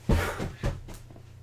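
A cat pulls things out of a home cupboard, making two close, dull wooden knocks and bumps followed by softer rustling and shifting, short and fairly loud.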